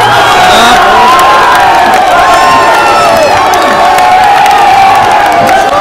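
At a local cricket final in Khost, Alishir Balawot Bagh, a loud, close crowd cheers and whoops with high shouts and scattered clapping in a dense, continuous roar.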